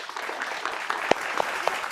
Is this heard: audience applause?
yes